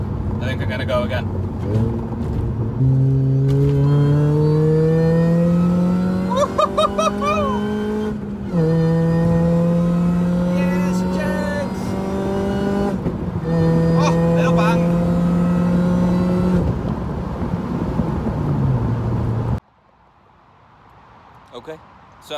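A tuned Mini Cooper S R53 with a supercharged engine accelerates hard through several gears on a test drive, engine note rising in pitch then dropping at each shift, loud from inside the car, ending with a sudden drop in engine noise.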